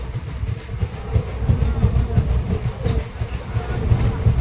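Sahid Express 12348 pulling into Bardhaman junction in the evening: a steady rumble of rolling rail wheels with faint rhythmic clatter, moderately loud inside the carriage.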